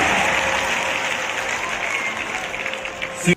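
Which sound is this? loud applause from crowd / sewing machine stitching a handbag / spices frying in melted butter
loud applause from crowd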